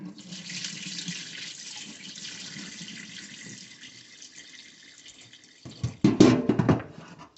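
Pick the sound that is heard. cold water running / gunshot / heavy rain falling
cold water running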